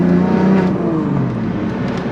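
A manual BMW F82 M4 built to over 900 wheel horsepower drives along normally, its engine giving a loud, close, steady drone and whir from inside the car with no talk.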